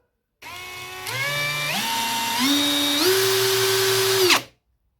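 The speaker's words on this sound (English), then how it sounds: "This hammer drill from the start, even before I drilled some holes in the bricks, sounded weird." A Parkside PPAGHS 20 LI A1 cordless hammer drill with an odd-sounding fault whirs loudly for about four seconds, its motor pitch stepping up several times before abruptly winding down and stopping.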